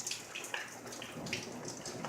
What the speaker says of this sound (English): this is the rain.